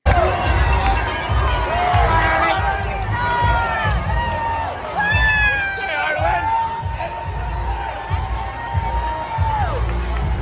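Crowd lining a narrow road cheers runners at the New York City Marathon, a loud, continuous outdoor wall of shouting, whistling and clapping with sustained cheers rising and falling throughout.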